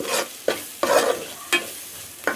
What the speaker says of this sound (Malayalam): ഇനി നമുക്ക് മുളക് പൊടി ഇട്ട് കൊടുക്കാം. ഇളക്കി കൊടുക്കാം.